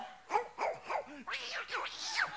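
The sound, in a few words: man imitating dog barking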